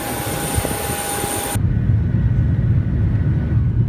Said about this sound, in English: Today we're going on a plane ride to Germany